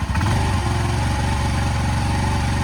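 A 1985 Honda Elite CH150 scooter engine idles as it warms up, a steady close, loud low putter with an even rhythmic chug running throughout and no voices.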